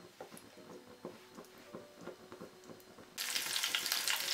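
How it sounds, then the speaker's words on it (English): Sliced ginger and slit green chilies crackle and pop in hot oil in a kadai in steady bursts, then erupt into a loud, continuous sizzle. "Once they make the crackling sound like this"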